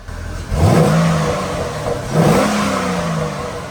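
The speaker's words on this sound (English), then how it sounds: "We got a freaking running Corvette, baby." A stock 2007 Corvette C6 V8 runs close by, revving up twice with rising engine tones over a steady loud idle.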